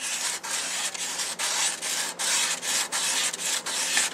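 Sandpaper rubs rhythmically back and forth over a wooden guitar headstock, taking out machine and jigsaw burn marks, in close, repeated strokes with short pauses between them.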